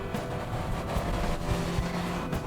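Fiat 500 compact with a manual stick shift, its engine droning steadily from inside the cabin while driving, a low constant hum with slight rises and no talk over it.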